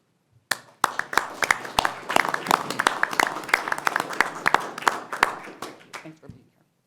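Audience at a University of Missouri Board of Curators meeting applauding new Curators Distinguished Professors, sharp individual claps quickly swelling into a steady round of applause for several seconds before trailing off.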